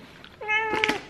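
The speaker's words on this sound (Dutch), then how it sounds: "De kat hoeft niet overal in beeld, Max." A house cat gives a single close, clear meow, rising and then falling, in an otherwise quiet room.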